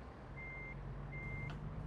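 A truck pulling a trailer reverses, its backup alarm repeating steady high beeps over a low engine rumble, faint and distant.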